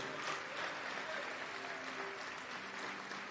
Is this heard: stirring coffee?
no